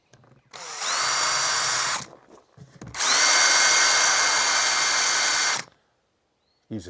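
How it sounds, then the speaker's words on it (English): A power drill fitted with a bigger bit bores into a falconry hawk travel box, giving two loud, sustained high whirring bursts, the second longer, separated by a short pause and ending in near silence. "by putting a bigger drill bit in there."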